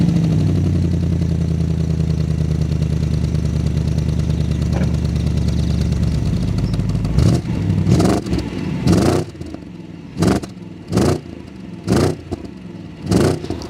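Stock factory exhaust of a car, heard from right beside the tailpipe: a steady low idle rumble for about seven seconds, then a series of sharp, loud revs blipping up and falling back in a regular rhythm.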